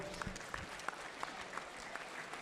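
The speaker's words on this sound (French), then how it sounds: "on peut applaudir Madame Descamps encore une fois." Steady applause from an audience gathered for the start of a 24-hour race event, a dense even patter of many hands heard from some distance, with no talking over it.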